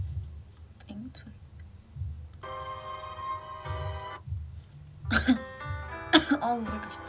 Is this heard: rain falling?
no